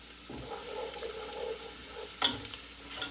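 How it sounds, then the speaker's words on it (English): Onion sautés in a hot pan with a soft, continuous sizzle, broken by a few light clatters and one sharp knock of a utensil near the end. "I'm going to let this saute like a minute or two"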